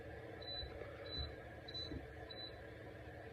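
Four short, high-pitched electronic piezo beeps, evenly spaced about every second over a quiet background hum.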